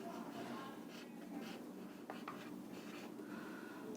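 Marker or chalk writing a chemical equation on a board in a classroom science lesson, a steady scratchy stroking that runs throughout with short bursts and pauses between strokes.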